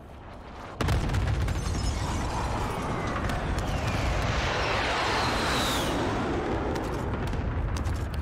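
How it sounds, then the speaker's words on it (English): Precision airstrike explosions in the game Warzone: after a brief quieter lead-in, a sudden heavy blast gives way to a sustained, dense roar of overlapping booms and rumbling detonations lasting several seconds, loud and continuous. "Be advised, friendly precision airstrike inbound."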